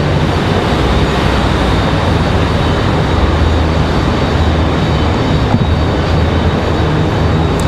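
Southwest Boeing 737-800 airliner coming in to land, a loud, steady broadband jet roar that holds constant throughout without talk.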